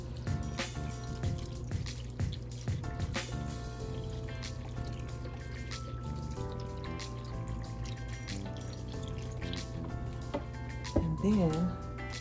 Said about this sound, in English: I'm going to be then putting halfway full of the vegetable broth.